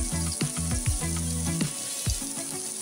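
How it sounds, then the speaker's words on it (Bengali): Potatoes land in hot oil with browned cumin seeds and red chili. A crackling sizzle runs throughout, broken by a few short clattering, squeaky tonal sounds. "জিরেটা আর লঙ্কাটা লাল হয়ে গেছে, আমি ওর মধ্যে আলুগুলো দিয়ে দিচ্ছি।"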